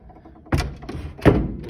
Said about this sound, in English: and close it multiple times